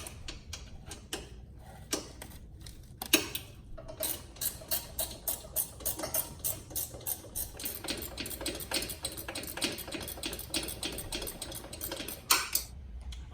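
Rapid metallic clicking of a 10mm ratcheting wrench loosening bolts during a front mount intercooler install on a Fiat 124 Spider Abarth, dense ticking bursts close up, with no talking.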